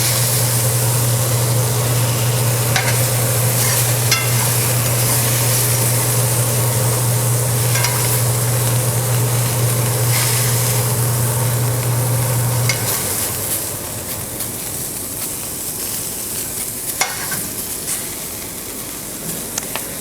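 Vegetables stir-frying in melted butter in a pan, a continuous loud sizzle with scraping and stirring strokes over a steady hum that cuts out partway through.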